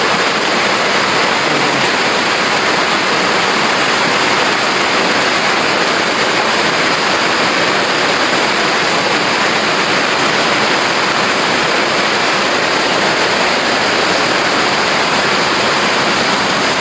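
A loud, constant roar of rushing floodwater during a typhoon fills the clip without letting up, a dense wash of noise like a strong flow surging past nearby.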